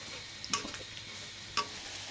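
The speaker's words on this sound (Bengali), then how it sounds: "এখন শুধু মশলা দিতেছে আর নাড়তেছে" Noodles with egg and spices are stirred in a pan, a steady low frying sizzle broken by two sharp scraping clacks of the utensil against the pan, with no talking.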